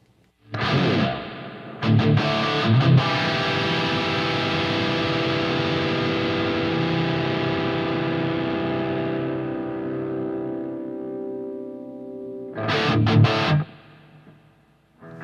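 An electric guitar strums a few sharp chords, then a long chord rings out and slowly decays in a wash of reverb before more strummed chords return.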